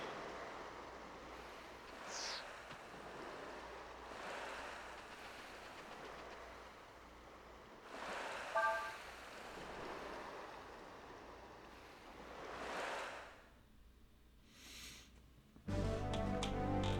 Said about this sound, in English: Looks like the wind's picked up again.